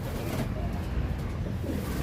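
Racing pigeon cooing close by, soft low throaty coos over a rough noisy background, a couple of short phrases within the brief span.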